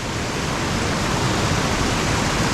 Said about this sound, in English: you have the Meadow Run pouring water in, you got Cucumber Run pouring water in